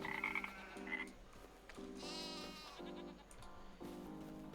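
Frogs croak in regular bursts while sheep bleat intermittently in Farming Simulator 25's rural ambience, the croaks pulsing steadily and the bleats rising above them, no talking.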